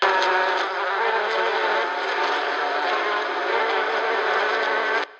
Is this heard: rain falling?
no